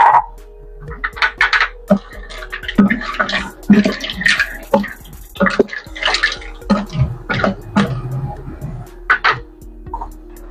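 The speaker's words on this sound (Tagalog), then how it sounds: "dadagdagan po natin ng water para mas masabaw" Water poured into a pot of boiling soup, a close gurgling splash and bubbling that runs unevenly throughout.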